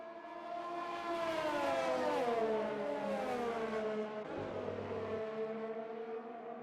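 Race car engines in a PC racing game whine at high pitch and rise and fall as the car accelerates and shifts on the final lap, a steady moderately loud tone with no voices.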